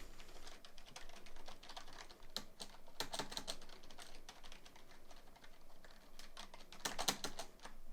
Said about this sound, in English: I was doing some jumping around, just spamming the space bar and using the W key and whatnot